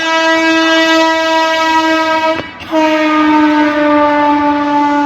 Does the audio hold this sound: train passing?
yes